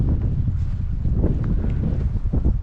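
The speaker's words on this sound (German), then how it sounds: "Das merkt man den Wind, oder? Ich glaube, den hört man jetzt auch in der Kamera." Steady wind roaring across a microphone on a hilltop overlooking a stone quarry, a continuous low rumble with gusty buffeting and no clear pauses.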